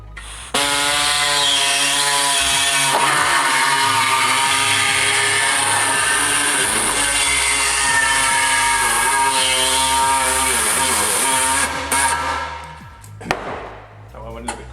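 Power tool cutting through a fabricated steel car sill panel clamped down, a loud sustained high-pitched whining and grinding screech running for about eleven seconds with slight pitch shifts, then stopping abruptly and spinning down.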